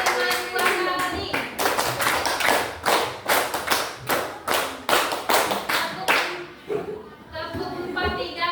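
Junior high students at a school religious program clap as a group in rhythmic sets, sharp in-unison claps in quick patterned bursts for most of the stretch, with a voice heard toward the end.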